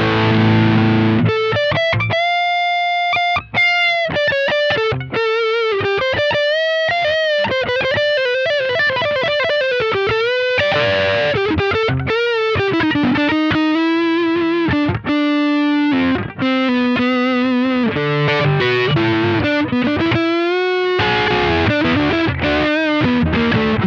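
Electric guitar through a J. Rockett The Dude overdrive pedal with depth maxed, treble lifted and more gain, playing a continuous melodic lead line of sustained, distorted notes and quick runs, loud and alone.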